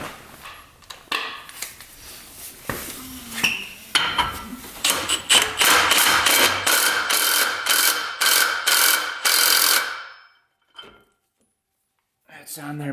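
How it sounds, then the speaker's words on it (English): A ratchet wrench torquing down a nut on a UTV: rapid, close clicking ratchet strokes in quick bursts that build, then stop, with a voice heard around the work. "Now we've got our nut going on. That gets torqued down."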